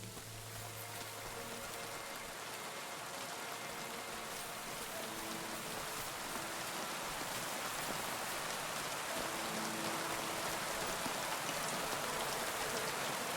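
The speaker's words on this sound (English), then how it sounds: "Oh, that rain sound is really good. That is pouring." Heavy pouring rain in the video game Kingdom Come Deliverance 2, a steady dense hiss of downpour that holds constant throughout, with faint low tonal game sounds beneath.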